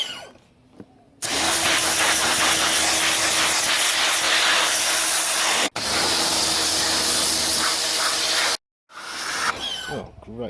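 A spray squirted onto a vintage Victa mower, a steady loud hiss running several seconds, a brief break, then continuing before a short silence and a quieter tail.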